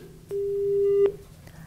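A single steady telephone tone sounds for about three-quarters of a second after a call disconnects during a live TV phone-in. It is fairly clear over a low background hum, and faint clicks follow.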